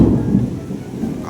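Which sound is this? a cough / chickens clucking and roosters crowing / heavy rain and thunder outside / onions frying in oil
heavy rain and thunder outside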